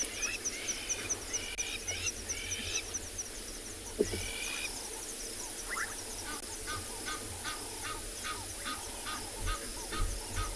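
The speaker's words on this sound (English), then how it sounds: "You can hear some Egyptian geese," Egyptian geese honk repeatedly in rasping, rhythmic calls over a steady background of insects and distant birds, moderately far off in open safari country at sunrise.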